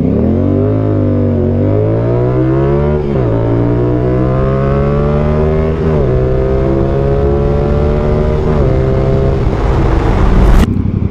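A 2024 CF Moto 450SR-S motorcycle fitted with an SC Project CR-T exhaust accelerates hard and close by, its loud rising engine note climbing through several gear changes with brief dips between shifts and no talking.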